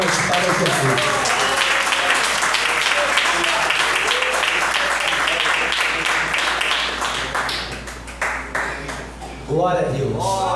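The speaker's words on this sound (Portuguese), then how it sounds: "batendo uma linda salva de palmas para Jesus" Loud, dense applause from a church congregation clapping for Jesus fills the hall, then thins out into scattered claps near the end as a voice begins to speak.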